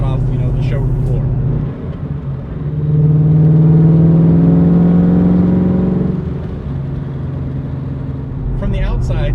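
A 1999 Ford Mustang SVT Cobra with a Coyote V8 swap drives along, its engine rumbling steadily, then swelling into a rising rev for a few seconds before easing back to cruise; someone talks over it at the start and end.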